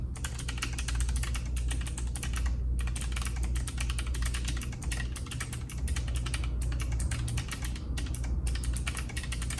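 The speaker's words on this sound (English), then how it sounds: "So I went with the blue switches, which are really clicky and really loud." Steady, rapid typing on a mechanical keyboard with clicky blue switches fills the clip, a dense close stream of sharp clicks that runs continuously without pause or speech.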